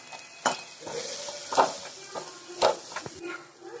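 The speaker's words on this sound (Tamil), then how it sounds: "போட்டு லைட்டாக கிண்டிக்கலாம்." Spoon scraping and clinking in a pan as noodle masala is stirred, with a few sharp knocks against the metal and faint kitchen noise in between.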